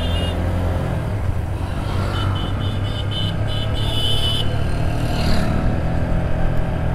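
Motor vehicle rolling downhill on engine braking on a mountain road from Sajek, a steady loud engine drone with faint whining tones above it, continuous throughout.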